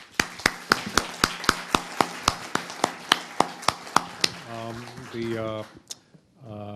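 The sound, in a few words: audience applause for the ambassador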